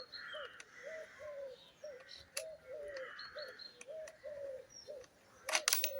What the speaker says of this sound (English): You can hear those crows are going crazy